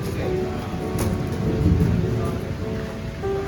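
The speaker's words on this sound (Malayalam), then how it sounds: "നല്ല മഴയാണ് ഇവിടെ." Steady rain hisses throughout in the Kerala backwaters, with a low rumble of thunder swelling in the middle, and no voices.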